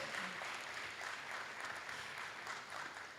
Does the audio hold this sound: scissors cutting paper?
no